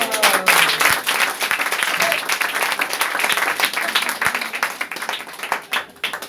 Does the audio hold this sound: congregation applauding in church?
yes